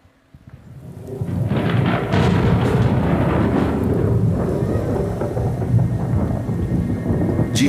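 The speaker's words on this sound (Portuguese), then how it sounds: "De repente, levantou-se uma tempestade no mar." A thunderstorm at sea with heavy rain: a loud, continuous roar of rain swells in over the first second, with rumbling thunder rolling beneath it throughout.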